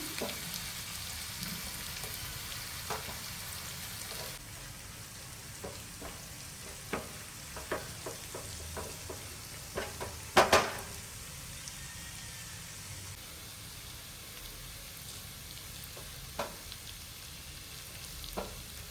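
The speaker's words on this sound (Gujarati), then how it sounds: "હવે આપણે તેલ ગરમ થઈ જાય તે પછી હવે આપણે આમાં જે ચોપ કરેલું હતું એ એડ કરી દઈશું" Chopped chillies and other ingredients for schezwan chutney frying in hot oil, a faint steady sizzle with occasional stirring clicks and scrapes, one brief louder clatter midway, no talking.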